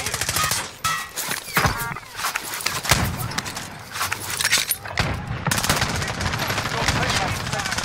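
Rapid bursts of video game gunfire, dense automatic fire mixed with single shots, loud and close throughout, with excited players shouting over it.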